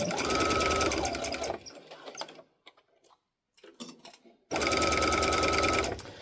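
A sewing machine stitches a minky blanket in two loud, close, rapid bursts separated by a brief quiet pause with light handling noises.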